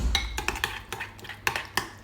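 Vegetables stirred into a flan mixture for small savoury bites, like a mini vegetable omelette: brisk clinks and scrapes of a utensil against a bowl, several quick strokes in a short close-up burst, with no talking.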